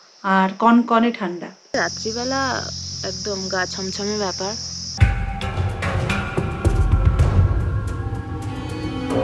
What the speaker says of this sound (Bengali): দিনের বেলাও ঝিঝি পোকার ডাক